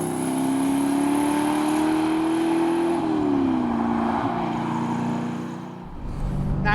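A De Tomaso Pantera GT5 engine pulling hard, its loud drone climbing steadily in pitch, dipping at a gear change and dropping off near the end before picking up again, heard from inside the car on a bumpy road.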